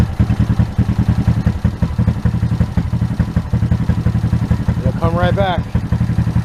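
A motorcycle engine running lean while being tuned on the fly with an Aracer Mini Plus, a loud, steady, rapid idle chug close by, with someone talking over it.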